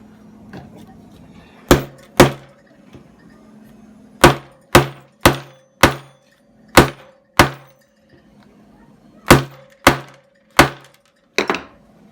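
A hammer banging a button onto stroller fabric over a small base, about a dozen sharp, loud, close strikes in uneven bursts of two to four with short pauses between.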